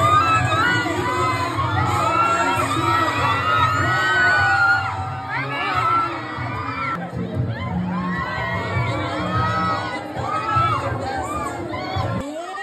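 Loud, noisy crowd at a film premiere night in a shopping mall cinema, with children shouting and whooping and cheering rising in waves; the roar stays close and continuous throughout.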